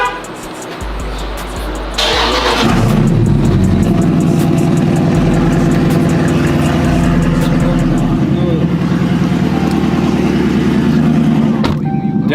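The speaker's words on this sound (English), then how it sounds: "Gonna pull her out the garage now." A Chrysler 300 Scat Pack with a swapped engine starts up and idles with a deep, steady rumble close by, loud throughout, ending with a brief quiet moment.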